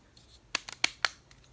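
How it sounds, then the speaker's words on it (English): Plastic action figure parts snap together in a few quick, sharp clicks, four distinct taps spaced close together over a quiet background, near and crisp with no talk. "Squeeze together. Bam! A little clicking action."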